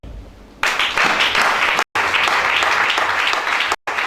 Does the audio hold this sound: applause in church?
yes